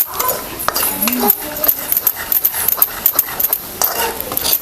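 Chilli thecha, made with chillies cooked in boiling water, is sautéed in a pan, with brisk close scraping and stirring strokes over a light sizzle while a voice speaks briefly.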